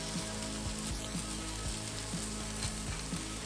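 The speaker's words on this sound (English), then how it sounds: "In a very hot pan, add cooking oil. Then half of your strips of meat. Add salt and pepper and keep flipping them." Strips of beef sizzle and fry in very hot oil in a pan, a steady loud crackle with periodic stirring and flipping clatters throughout, no voices.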